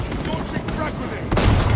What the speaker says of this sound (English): Launching frag grenade.